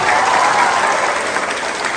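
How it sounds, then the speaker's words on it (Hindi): Students in a lecture hall clap loudly together during a motivational session, a dense, sustained burst of applause close and strong for the full two seconds. "थोड़ा जोरदार ताली हो जाए"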